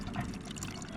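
Water from a camp container pours steadily into a camping pot at a wild forest camp in the Peak District, making a soft, continuous close trickle and splash with no talking.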